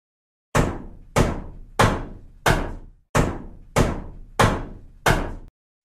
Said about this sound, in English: Okay, I finally got a hammer. Now time to smash the TV.